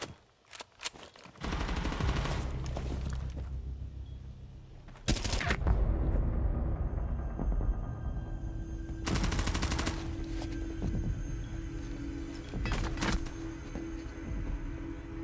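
Heavy video game gunfire rattles in sustained automatic bursts with sharp louder shots breaking through, dense and continuous across the whole stretch.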